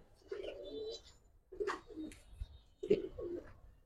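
Giribaz and coloured pigeons cooing in repeated low, throaty bursts, three clear phrases in a quiet setting with faint background voices.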